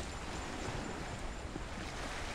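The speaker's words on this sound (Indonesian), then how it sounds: "Ya, deburan ombak." Ocean waves break on the beach at Tanjung Lapin, Rupat Utara, in the early evening, a continuous broad rushing roar with some wind, steady and fairly quiet, with no voices.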